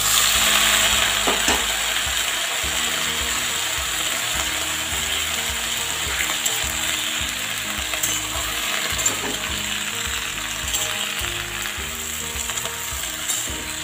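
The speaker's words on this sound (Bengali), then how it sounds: "এবার এর মধ্যে আমি লাউ ডাঁটা আর লাউ শাকটা দিয়ে দেব।" Bottle gourd stems and leaves sizzle and fry in a pan with already-fried potatoes, a steady loud crackling hiss with scraping stir sounds running throughout, no talking.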